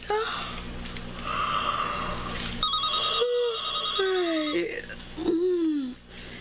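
Telephone ringing in repeated electronic tones amid talking and laughter, with the rings standing out clearly above the voices.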